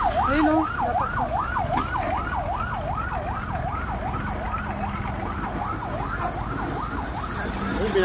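Ambulance siren arriving at a road car accident, a fast wailing yelp rising and falling repeatedly over steady traffic noise, fairly close and continuous.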